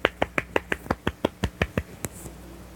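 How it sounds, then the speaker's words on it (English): Crisp single claps or snaps repeat about twelve times in a quick, even rhythm, close and sharp, with a faint trailing sound at the end and no talk. "Random clapping alert."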